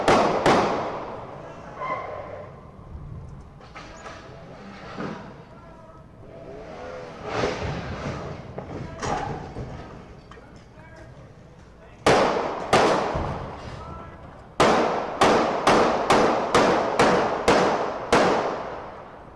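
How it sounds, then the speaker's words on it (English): Gunshots at a Seattle protest near a barricade, heard as a rapid series of sharp, loud cracks in the latter half after a noisy stretch of crowd voices and vehicle sounds. "You hear the gunshots."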